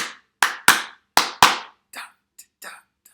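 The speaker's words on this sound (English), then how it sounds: "I'm not clapping this one back." Hand claps ring out sharp and close in a rhythmic pattern, five loud claps followed by four softer ones with gaps between them.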